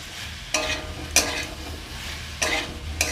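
Spices fry in oil in a pan for a cauliflower roast, a steady close sizzle broken by a few sharp scraping stirs of a spoon against the pan, with no voices.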